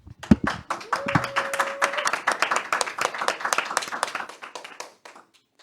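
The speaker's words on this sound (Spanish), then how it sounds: "vamos a recibirlo con un fuerte aplauso también" A modest audience greets a performer with brief applause, a cluster of distinct hand claps building quickly then thinning out and fading after a few seconds, with a sustained tone briefly sounding near the start.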